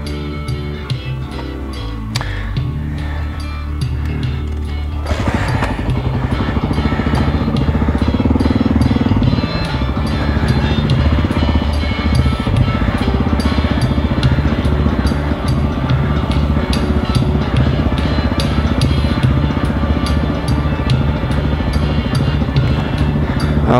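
Dirt bike engine labouring in first gear on a trail ride at Sugar Pine, a loud, steady close-up drone that rises after a quieter start and holds rough and continuous throughout.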